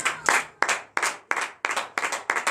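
Worshippers at a morning prayer service clap in acclamation to Jesus, about eight sharp, evenly spaced group claps in a brisk rhythm, close and clear.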